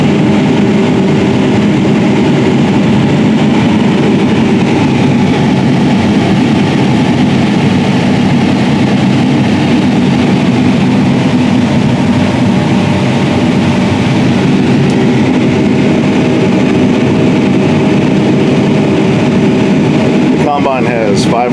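A 2019 John Deere S790 combine on tracks unloads grain through its 28.5-foot auger, a loud, steady heavy-engine drone and mechanical rumble holding throughout, with a voice talking over it.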